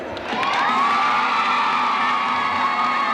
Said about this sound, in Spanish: Ese aplauso que tú has recibido ha sido muy especial